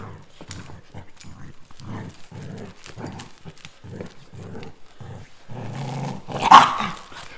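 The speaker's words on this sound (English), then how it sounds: "Where's my dog? Where's my doggy?" A pet dog barks and growls in short bursts at close range, with a louder bark near the end, while an owner talks playfully to it throughout.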